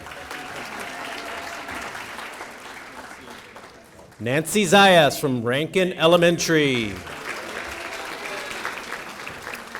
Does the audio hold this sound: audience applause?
yes